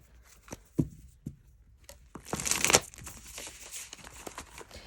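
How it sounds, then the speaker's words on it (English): A deck of tarot cards being shuffled by hand: a few soft slaps and taps, then a brief riffling burst, followed by quieter crinkly handling of the cards, close and fairly faint. "I'm just going to do a quick shuffle"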